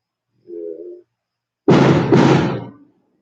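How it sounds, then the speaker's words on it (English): Fireworks being shot off outdoors near a church: a faint muffled thud, then a pause and a loud close pair of sharp blasts that decay over about a second. "You hear the fireworks they're shooting off, right?"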